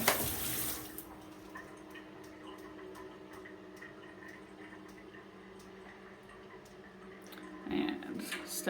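Quiet, steady running water from an electric shower in a British home, a soft continuous spray with a louder burst at the start and another near the end.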